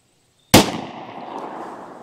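A single loud 9mm Federal Punch pistol round fires outdoors with a sharp crack that opens abruptly after a half-second of silence, then rings and decays slowly over about a second and a half.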